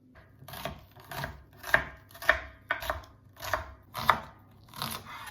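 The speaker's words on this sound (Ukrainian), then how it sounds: "Спочатку кубиками нарізаю цибулю." A knife dices an onion on a cutting board, about eight crisp strokes at an even rhythm, close and clear.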